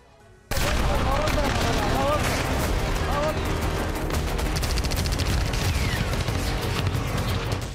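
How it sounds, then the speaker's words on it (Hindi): Heavy gunfire in Sudan's war between the army and paramilitary forces erupts abruptly and continues as a dense, unbroken fusillade of loud cracks and booms that lasts to the end. "सूडान में गोलियां चल रही।"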